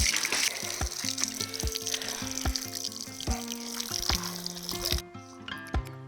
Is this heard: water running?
yes